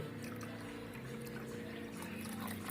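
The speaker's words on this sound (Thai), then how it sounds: "ผมก็จะจะเท คอลายลงไปในน้ำนะครับผม" Calcium chloride is poured into water in a steady, close pouring and trickling wash that lasts the whole moment, with no voices.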